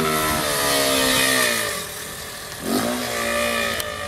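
A Honda Titan 160 motorcycle with a worn-out clutch revs hard, engine held high and steady before dipping, then surging again in a second rising rev, loud and close with no talking.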